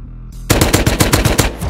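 Rapid automatic gunfire in the survival video game Rust, a loud burst of about ten evenly spaced shots after a short quiet start.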